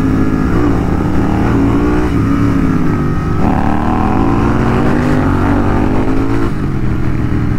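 A modified GT650 motorcycle engine roaring loud and close on a night ride, a steady thick low rumble with shifting revs throughout and no talk.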